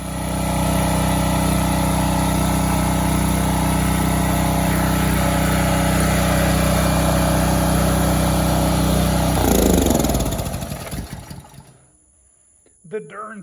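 A portable generator engine runs steadily and loud, its constant drone filling the clip before it cuts off near the end, leaving near silence with a brief sound just after.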